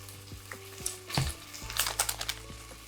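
Frozen sofrito hits hot oil in a pressure cooker for a vegetable asopao, giving bursts of sizzling and crackling with a few clanks of utensils over a steady low hum, with no voices.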